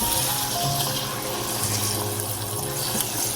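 Butter violently bubbling in a pan as it is stirred, a steady dense frothy hiss and sizzle with no clear breaks, moderately loud and close, with no speech over it.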